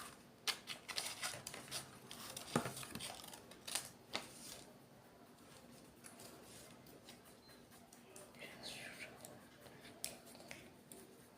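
Scissors snip at a Willy Wonka chocolate wrapper being made by hand, a cluster of sharp crisp cuts and paper rustles early on, then quieter crinkling and a few more scattered snips.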